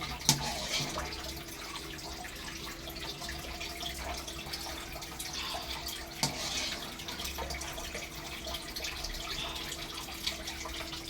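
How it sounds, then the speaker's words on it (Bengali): Starchy water from cooked rice is poured off through a strainer in a home kitchen: a steady, soft splashing rush of liquid running continuously, close but fairly quiet, with a few small clinks and no talking. "এইভাবে আমি চালটা ছেঁকে নিচ্ছি"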